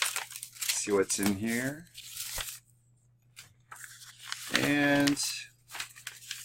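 Paper envelope torn open by hand at a mail opening for baseball cards, with brief crinkling and ripping between stretches of someone talking close by.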